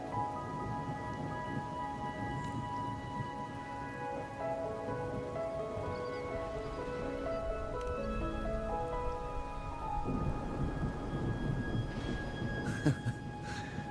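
Steady rain patters continuously under a soft tonal music bed in the video game Wuthering Waves, with a few brief louder rustles near the end.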